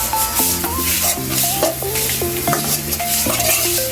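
Curry leaves and a spoonful of turmeric frying in hot oil in a pan for chicken curry, stirred steadily with a soft continuous sizzle under prominent melodic background music.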